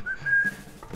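A person whistles a steady, clear melody from a song, one sustained tune lasting about a second, alone and close.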